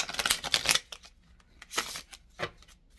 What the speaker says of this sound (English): I like the way that shuffled.